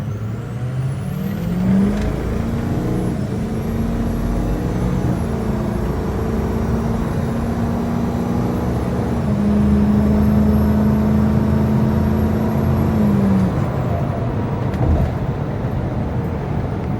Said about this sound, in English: This is our full throttle pull. So we are at a complete stop, full throttle